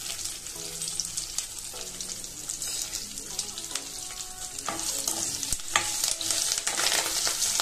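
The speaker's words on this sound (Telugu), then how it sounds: "ఎండుమిర్చి, కరివేపాకు, జీలకర్ర వేసుకుని ఫ్రై చేసుకున్నాను." Dried red chillies, curry leaves and cumin fry in oil for Andhra pachi pulusu, giving a close crackling sizzle with scattered pops, utensil taps and scrapes, growing slightly louder toward the end.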